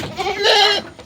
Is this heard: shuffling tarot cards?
no